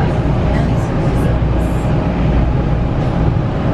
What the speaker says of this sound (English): So I'm on the train now.